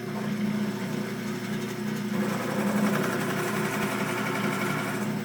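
A saw cuts into a wooden block to free a cube inside a cube, producing a continuous, fairly loud buzzing drone that holds steady with slight shifts in pitch and no talking.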